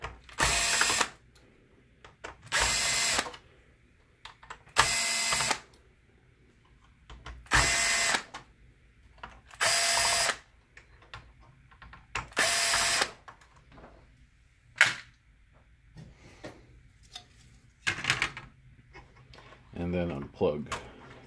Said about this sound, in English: Let's take out 1, 2, 3, 4, 5, 6 screws that hold the main board in.